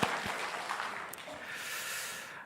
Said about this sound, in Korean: 우리 다시 한번 축복하면서 박수하겠습니다.